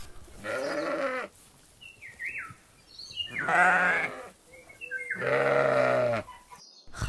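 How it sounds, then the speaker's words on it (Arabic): A sheep bleats three times in separate, drawn-out calls with pauses between, heard alone and fairly close, with faint higher chirps in the gaps. "خروف."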